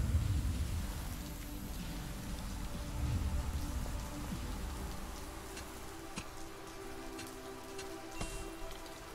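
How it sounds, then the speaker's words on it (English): Steady hiss of rain falling in the farming game Deiland, a dense even patter running throughout with faint ticks, game music and background sounds underneath. "It's a little bit late to get those clouds to rain."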